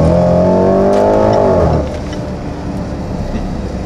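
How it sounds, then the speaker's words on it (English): A 405 kW car accelerating in dynamic mode, a loud close engine note rising in pitch for nearly two seconds before the revs drop away to a steadier, quieter hum. "A 405 kilowatt car and a beautiful soundtrack."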